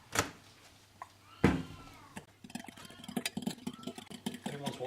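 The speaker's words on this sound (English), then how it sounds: "that weird noise is a cat" An old house cat that is going deaf lets out a few drawn-out, wavering meows in a kitchen during home baking, after a couple of sharp knocks, with a faint low hum beneath.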